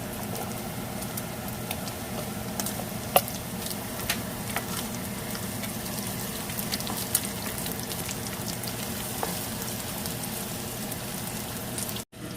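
Chopped onion sizzling in a pan with browned garlic while cooking adobong sitaw with okra, giving a steady, close crackling hiss with a few faint pops that runs unbroken for the whole stretch.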